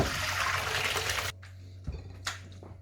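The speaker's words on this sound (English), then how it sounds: "just a quick drain of the beans" Cooked beans drained in a kitchen, a rushing pour of water for about a second, then the stream cuts off, leaving faint drips and a couple of light clunks against a low hum.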